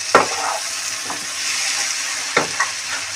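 Vegetables sizzle steadily in a hot pan with slit green chillies while a utensil scrapes and stirs them in a few distinct strokes.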